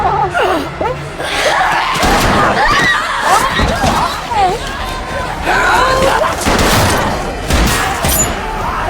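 Gunfire in a tense scene from The Last of Us TV series, bangs and rapid shots mixed with gasps, growls and chaotic action, under a person's reacting voice.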